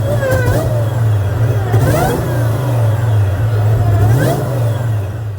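A supercharged 600+ HP Mustang SVT Cobra engine idling with a deep throb and blipped through several sharp revs, each rising with a supercharger whine before falling back, loud and close.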